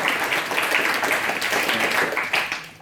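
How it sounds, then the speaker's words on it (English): A crowd applauds steadily at the opening session of a Wikimedia hackathon in Austria, dense clapping sustained and fairly close throughout before starting to thin at the very end. "that's the round of applause"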